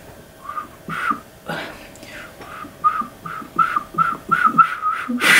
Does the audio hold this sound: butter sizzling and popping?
no